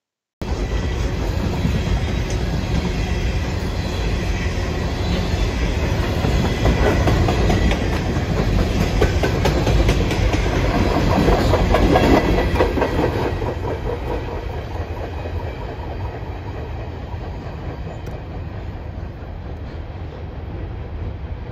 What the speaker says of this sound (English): this train moving through town